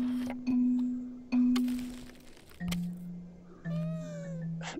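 Repeated cat meows from a video game physics puzzle, several separate tonal calls with short gaps, fairly clear and close, with no talking over them.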